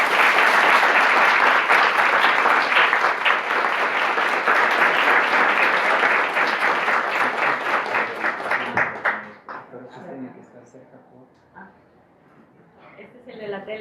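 An audience applauds in welcome for translator Dr. Selma Ancira at a literary talk, with sustained loud clapping for about nine seconds that fades out, followed by quiet room noise and faint speech.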